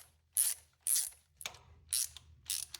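A hand ratchet snugs down thermostat housing bolts on a 2002 Ford Ranger, five quick, quiet clicking bursts in an even rhythm, close up, with a low hum underneath.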